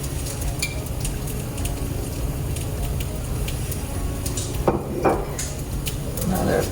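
Sourdough pizza frying in an oiled pan gives a steady, close sizzle with faint crackles, while a few brief clatters and rustles come through near the end.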